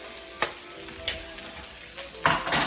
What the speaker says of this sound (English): I'm putting my rice in here.